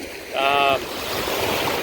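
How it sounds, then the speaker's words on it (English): Caribbean Sea waves wash continuously against the shore in a steady broadband rush, with a brief voiced sound rising above the surf early on. "I'm literally standing in the waves right now, as you can probably hear in the background."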